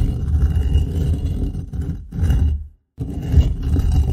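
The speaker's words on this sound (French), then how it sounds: "C'était le son d'une pierre qui est poussée." Rough, grinding scrapes of a heavy stone being pushed over the ground, loud and close, in several long strokes broken by a brief silence.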